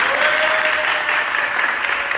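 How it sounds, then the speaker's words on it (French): Dense, steady applause from a crowd fills the whole stretch at an even level, with no voices on top and no break in the clapping. "applaudissements"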